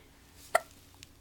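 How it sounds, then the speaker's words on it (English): A single sharp hiccup, close and fairly clear against a quiet room, with a faint second catch a half-second later. "Oh, you got the hiccups."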